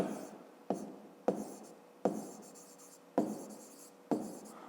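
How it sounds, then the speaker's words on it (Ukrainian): A pen scratches across paper while someone writes out a math exercise, six sharp strokes starting about once every second, each fading into a brief scratchy trail, close and quiet with no talk. "Пишемо непарне число."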